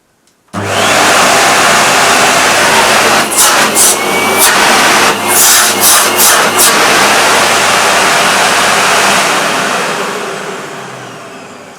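A Hoover Aquajet S4514 vacuum cleaner starts up abruptly and runs with a loud, steady motor whine, broken by a few brief dips in the middle, then fades slightly as it winds down near the end.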